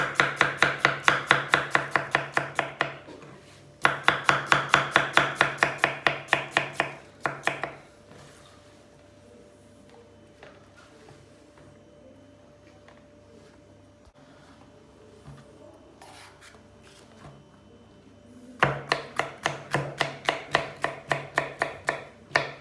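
Onion and green and red peppers chopped on a board for an eggplant dish, in quick rhythmic bursts of close knife strikes, with a quiet pause in the middle before the chopping resumes.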